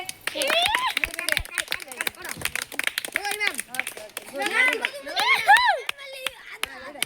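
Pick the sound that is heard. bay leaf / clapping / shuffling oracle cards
clapping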